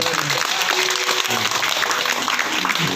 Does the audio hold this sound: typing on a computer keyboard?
no